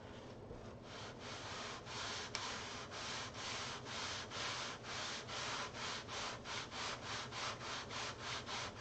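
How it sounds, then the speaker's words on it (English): Steady rhythmic sanding of a wooden control-line stunt plane wing, with regular back-and-forth rasping strokes repeating about twice a second, close and continuous, with no talking. "That's going to take some more sanding"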